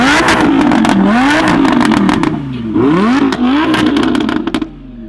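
A supercharged Lamborghini Huracan with a custom exhaust revs hard nearby, the engine note rising and falling in quick sweeps with crackling pops, loud and continuous throughout.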